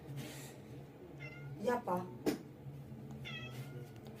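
A pet cat meows several times nearby during a home iPhone 5c repair, the short cries set over quiet room noise while a person speaks.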